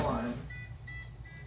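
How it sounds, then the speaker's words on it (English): A kitchen timer goes off while breakfast sandwiches are being cooked, giving three or four evenly spaced high electronic beeps after a brief bit of speech. "There goes the alarm."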